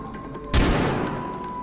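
Gunfire in the video game Far Cry 4: a single loud, sharp burst cracks out after a quiet stretch and rings off in a long decaying roar, with no talking.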